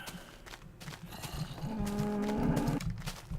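A cow moos in a Minecraft-style video game, one drawn-out low call over faint background sound.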